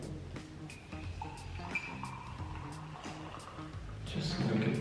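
Tea poured from a French press into a cup, a faint trickling and splashing of liquid that grows fuller toward the end, heard close alongside quiet background noise.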